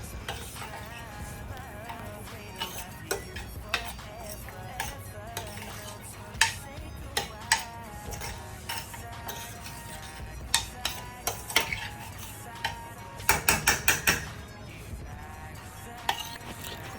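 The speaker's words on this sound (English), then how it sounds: "We're going to keep giving this a little stir until well incorporated." Spoon scraping and clinking against a pot while food seasoned with sazon is stirred, a steady run of light metallic scrapes and taps with a brief burst of rapid clatter near the end, no talking.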